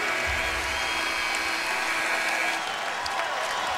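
A basketball arena crowd roars in a steady, loud wash of cheering and noise throughout, as the Grizzlies host the Clippers in a tight 2012 playoff game.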